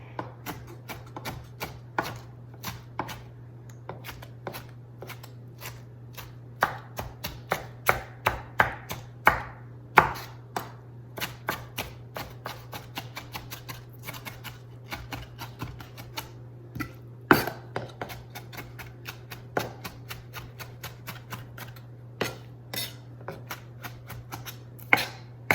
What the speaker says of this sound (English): I'm going to get these chopped up.